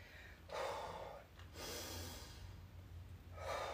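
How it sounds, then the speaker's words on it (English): A person breathes slowly and audibly during a mobility exercise, with a long exhale, a pause, then a deep inhale and another breath, quiet and close with no speech. "So exhale, breathe in."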